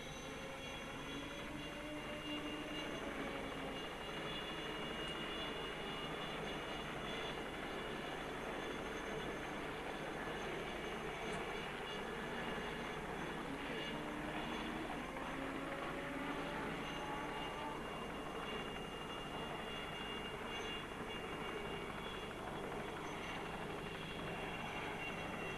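A helicopter films the 1975 German Grand Prix at the Nürburgring Nordschleife, giving a steady, continuous broadband rotor and engine drone that stays level for nearly half a minute, with no talking over it.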